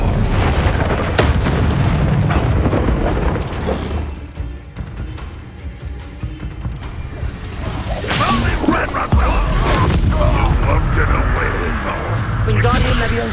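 Spell blasts and fiery explosions in the Hogwarts Legacy video game, with booming bursts and whooshes arriving in a dense, continuous barrage and a voice shouting spell incantations over the fight.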